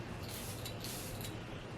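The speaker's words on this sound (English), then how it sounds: "let me go ahead and give it a spray" A few quick hissing bursts from an Eilish No. 3 perfume spray bottle, faint and close, with no speech.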